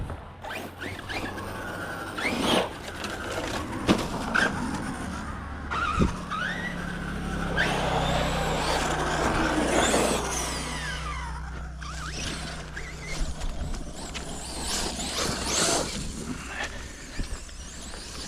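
Tekno RC truggy, a very light radio-controlled buggy, driving over rough ground outdoors, with a continuous buzzing electric motor whine that rises and falls over brief tire scrabbles, moderately near and steady throughout.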